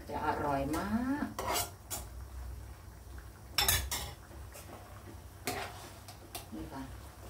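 Metal clattering and scraping as ingredients are stirred and tossed together in a cooking pot of Thai chap chai vegetable soup with sun-dried pork. Irregular utensil knocks and scrapes sound close by, with a voice briefly heard at the start.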